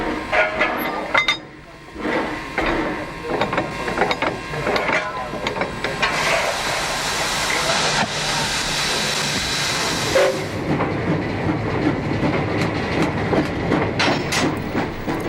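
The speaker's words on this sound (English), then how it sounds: "Once it is turned, the locomotive speeds up to continue its journey." A Zigzag Railway steam locomotive in Australia picks up speed after turning, with rhythmic chuffing and clattering wheels, loud and close, with a brief hiss near the middle.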